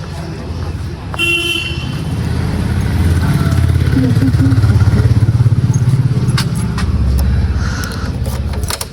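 A motorcycle engine idles and revs close by as it is wheeled out through a gate, with a steady low rumble, a brief horn toot near the start and a person talking over it.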